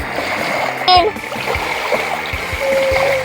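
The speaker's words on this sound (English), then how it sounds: "You wash it off and let's see what it looks like." Brief splash and sloshing as a fossil barnacle is rinsed in water outdoors at a fossil-hunting site, with a loud splash near the start followed by trickling water and a steady background hiss.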